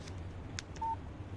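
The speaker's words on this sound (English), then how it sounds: "Text message from Barry." In the Alan Wake video game, a phone text message alert plays as a single short electronic beep, clear and close. A couple of faint clicks come just before it over a quiet low hum.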